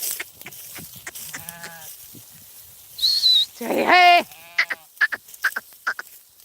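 A flock of sheep bleating in a village, several loud calls in quick succession at the centre with scattered fainter bleats and rustling before and after, no talk.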